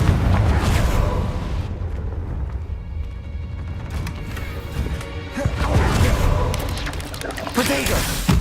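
Confringo blasting curse explosions in a Harry Potter video game: loud, booming bursts over a continuous roaring rumble, with short crashing swells near the start and end.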